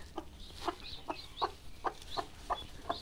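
A tame hen on a farm clucks in a steady series of about eight short, evenly spaced calls, close by but fairly quiet, with no talking over them.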